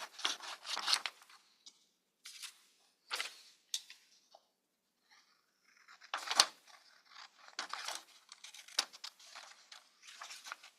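Paper being cut with scissors, a series of close, faint snipping and rustling bursts separated by short silent pauses.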